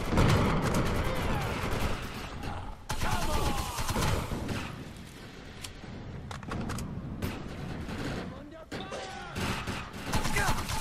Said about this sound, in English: Those guns are gonna keep firing until we shut down the generator.